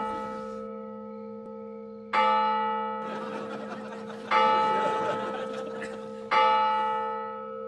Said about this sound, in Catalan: He vingut a escoltar les campanes cada quart d'hora.